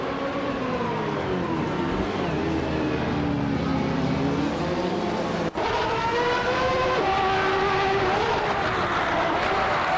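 A 1994 Mercedes C180 DTM race car in a racing video game, its engine droning steadily and loudly throughout with rising and falling revs, a brief break midway, and other cars blending in.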